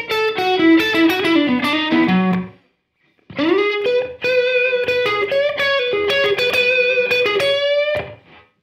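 Electric guitar with distortion playing a blues lick in the minor pentatonic scale, quick bent and raked notes in two phrases separated by a short pause, loud and close with no talking.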